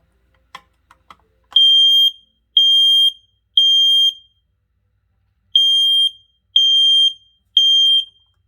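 A home smoke alarm is tested: a few faint clicks, then six loud piercing beeps in two groups of three, each about half a second long, with a pause between the groups.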